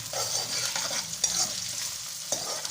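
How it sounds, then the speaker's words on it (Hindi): Onions browning in a pan for a potato and egg curry, a low continuous sizzle with occasional scraping stirs, close up and with no talking. "प्याज हमारे अभी ब्राउन हो रहे हैं।"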